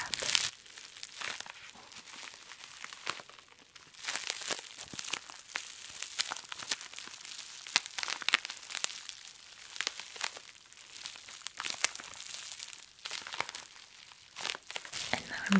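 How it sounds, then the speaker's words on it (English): Bubble wrap crinkled close up, producing a continuous dense crackle of crisp pops and rustles with no pauses across the whole stretch, during a quiet ASMR unboxing of a Korean skincare haul. "I'm just going to let you listen to the sound of bubble wrap."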